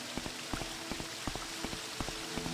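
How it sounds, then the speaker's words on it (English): Quick, regular running footfalls in the game Morrowind, light thuds repeating in a brisk rhythm over a low steady hum, faint and close. "This is the sound of running"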